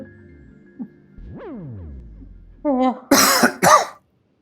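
A few sharp, harsh coughs close by, coming in quick bursts near the end after some quieter noises.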